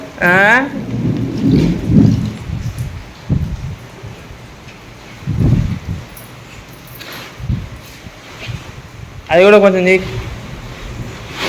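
Rain patters steadily while low thunder rumbles roll in and out, with people talking intermittently over the storm.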